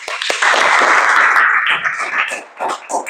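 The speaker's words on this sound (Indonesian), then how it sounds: "Kita tepuk tangan untuk kita semuanya" Students in a classroom clap together, a loud dense burst of many hands that holds for over a second, then thins into scattered, uneven claps as it fades out.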